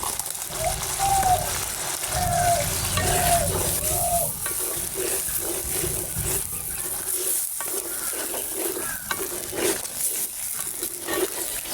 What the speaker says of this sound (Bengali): গরুর ভুড়ি দিয়ে কিছু সময়, মানে বেশ কিছু সময় নিয়ে তাই ভুড়িটারে ভালো করে ভাজা ভাজা করব